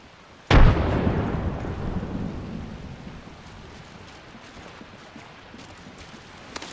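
A single frag grenade blast in Apex Legends hits with a sudden loud boom, then rumbles and fades over several seconds into a quieter background.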